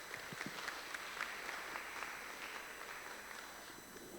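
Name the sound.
audience applause for the speaker Luigi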